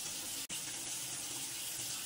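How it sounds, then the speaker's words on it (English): Tap water running into a sink while rinsing the face, a steady bright hiss of flowing water broken by a brief gap near the start, then continuing evenly. "using water and rinse it off"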